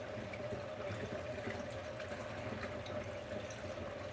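A tap runs steadily as a makeup brush is rinsed and swirled under the stream, making an even hiss of close, moderately loud flowing water with no pauses.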